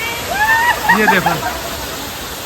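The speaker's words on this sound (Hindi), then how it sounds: "ये झरना भी बहुत ही सॉलिड है" Neer Garh waterfall near Rishikesh roars in a steady broadband rush, close and loud, while someone speaks briefly over the falling water.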